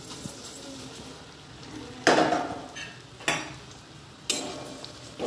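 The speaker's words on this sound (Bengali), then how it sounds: "এবার আমি চিড়েটা দিয়ে দেবো।" Flattened rice (chira) goes into a pan with lightly browned onions and is stirred, giving three sharp scraping, rattling strokes of a spatula against the pan over a faint background sizzle.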